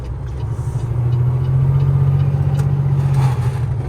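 A Peterbilt tractor trailer truck engine rumbles nearby, its revs climbing and holding in a steady loud drone before easing off as the driver prepares to shift, with no talk over it.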